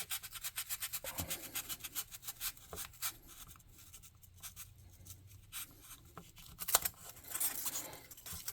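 A carving tool cuts and trims material shaping a giant stone statue head, making quiet scraping, rasping strokes in an uneven rhythm, close and soft, with no talk.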